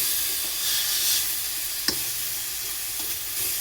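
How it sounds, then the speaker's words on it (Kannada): Dill greens fry in a hot pan with a steady, close sizzling hiss, broken by occasional soft scrapes and taps as the leaves are stirred, with no talking. "ಸೊಪ್ಪು ಚೆನ್ನಾಗಿ ಇದರಲ್ಲಿ ಫ್ರೈ ಆಗಬೇಕು. ಅಲ್ಲಿವರೆಗೂ ಇದನ್ನು ಚೆನ್ನಾಗಿ ಮಿಕ್ಸ್ ಮಾಡ್ಕೊಳ್ಳಿ."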